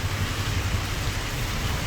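Steady rain hisses continuously, a dense, even wash of sound with no pauses or voices.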